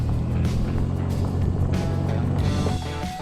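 Stock Toyota 4Runner rolling slowly at about 10 mph over snow and ice, a steady low engine and road rumble with crunching, hissing tire noise, fairly loud and continuous for a few seconds.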